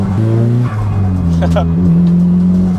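A JDM performance car's engine revs loud and close, rising and dropping in pitch with a brief gear-change dip, with a hint of tire squeal.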